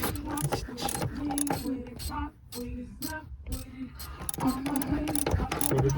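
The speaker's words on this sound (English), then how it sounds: "I'm gonna take these bolts out right now because they mounted this shit wrong." A wrench working bolts loose on a car's wiring harness mount: repeated metallic clicks, ratcheting and clanks in uneven bursts, close by, with a short pause midway.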